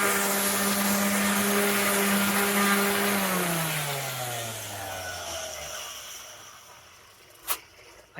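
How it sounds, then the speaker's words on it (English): A power sander with 120 grit sandpaper works a Corian counter seam with a loud, steady whine, then spins down over several seconds into a faint hum. "So now I'm going to do that one up again with the 120 grit sandpaper."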